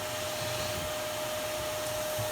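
The suction fan on a homemade CNC enclosure runs at a steady whooshing hum with a faint constant tonal whine, loud and unchanging, no voices.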